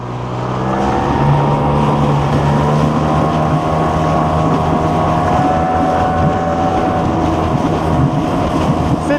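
A motorboat cruises at about 17 knots over choppy water, giving a loud, continuous engine drone mixed with rushing wind and hull noise, steady throughout with no voices.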